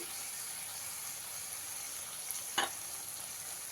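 Cooked-down spice masala with tomato sizzles softly and steadily in a pan as sour yogurt goes in, with one brief clatter of a spoon partway through; nobody speaks.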